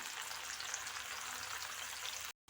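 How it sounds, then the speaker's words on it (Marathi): Chana dal, the last batch of split chickpeas, frying in hot oil for a crisp masala snack, giving a steady, dense sizzle and crackle close by with no talk, cut off abruptly just before the end. "इथे आपली डाळीची शेवटची बॅच तळत आहे"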